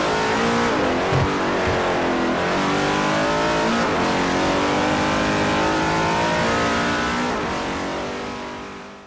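Engine of a car racing around a track in a video game, loud and continuous, revving up and down with gear shifts and a brief squeal throughout.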